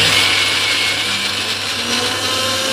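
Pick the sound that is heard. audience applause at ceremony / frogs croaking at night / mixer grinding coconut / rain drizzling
mixer grinding coconut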